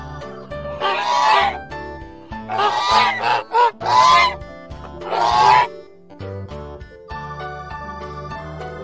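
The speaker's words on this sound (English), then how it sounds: "Goose." A farm goose honks loudly and repeatedly at close range in a series of harsh, nasal calls, some in quick succession, with gentle background music beneath.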